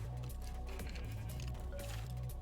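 Bleating of a white sheep in Minecraft, short repeated calls over a dense, steady game soundtrack with faint clinking.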